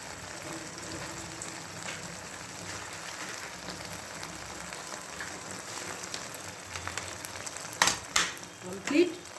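Cornflour-thickened dish being stirred in a pan over steady low frying sizzle, with a few louder scraping clatters near the end.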